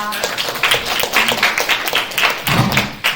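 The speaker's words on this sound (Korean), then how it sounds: "모두 박수 부탁드립니다" Audience clapping at a university freshman orientation for a health information department, a burst of applause from a crowd filling the room, with dull thumps and taps mixed in.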